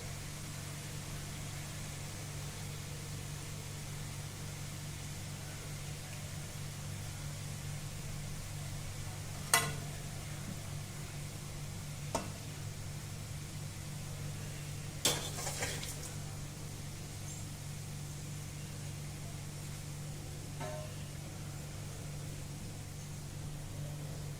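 Butchanam fries in a pan with a steady, soft sizzle over a low hum, broken by a few sharp clicks and knocks.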